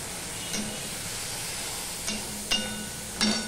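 Cumin and chili powder sizzle steadily in a hot pan, with sharp hissing bursts flaring up as splashes of water hit the spices, all close and continuous with no talking.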